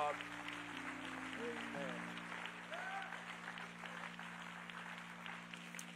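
A church congregation claps hands together, a soft steady wash of clapping under sustained organ or keyboard chords, fairly distant and even throughout.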